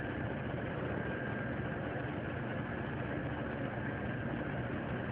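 JCB backhoe slewing its crane arm right and left, a steady low engine hum and rumble running continuously and evenly with no pauses, close and moderately loud.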